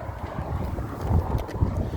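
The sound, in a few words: wind blowing into the microphone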